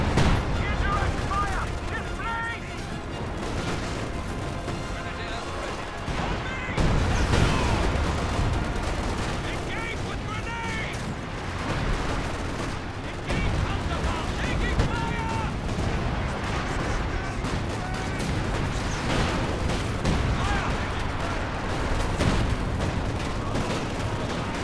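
Artillery bombardment and gunfire in the World War II strategy game Company of Heroes 2, with dense, continuous bursts of shots and booming impacts and a heavy blast partway through, while people talk over the battle.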